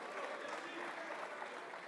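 Applause from members in the French National Assembly during a reply to a general policy speech, a steady wash of clapping heard at a distance with voices mixed in.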